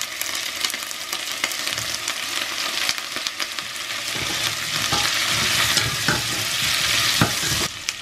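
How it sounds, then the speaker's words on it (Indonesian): Potatoes and garlic sautéing in a pan, with a dense, loud, continuous sizzle and occasional scraping of a utensil, close up with no talking. "Terus kentangnya agak sedikit ditumis sebentar gitu."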